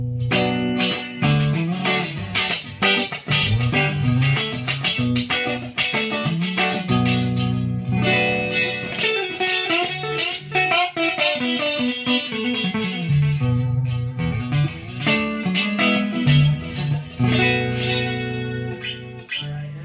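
Electric guitar played through an Echoplex tape echo with a super distortion pedal, a loud, thick, driven tone with chords and single notes trailing into repeating echoes, continuous and alone with no talking.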